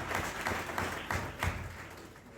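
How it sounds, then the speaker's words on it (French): Audience applause at a French-language sermon, a steady wash of clapping with a few louder bursts, moderately loud and lasting throughout. "Applaudissons pour le frère."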